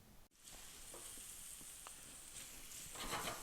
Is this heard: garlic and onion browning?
yes